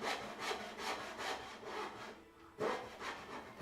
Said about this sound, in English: And then more sawing, but this time vertical.